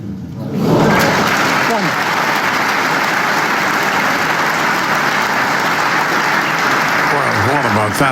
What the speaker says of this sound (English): The crowd gave Ronnie a terrific round of applause for this break-off shot